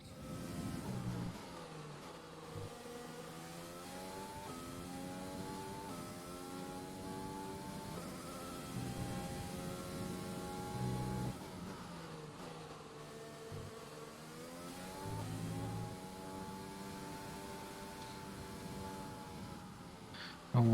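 A Formula One car in the F1 2020 video game revs and accelerates through its gears, the high engine note climbing repeatedly then dropping on each shift, sounding steady and close throughout.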